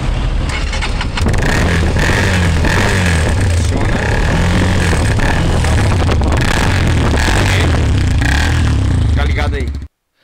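Close and loud, a motorcycle with a modified exhaust revs repeatedly while an exhaust valve device opens and closes, so the engine roar swells and cuts back in uneven bursts before stopping abruptly near the end.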